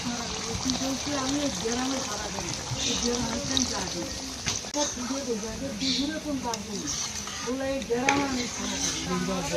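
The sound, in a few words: water poured into pan of cooking chicken curry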